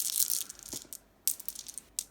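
Heavy glass-like board game dice clatter and rattle in a couple of quick bursts, rolling and clicking against each other up close.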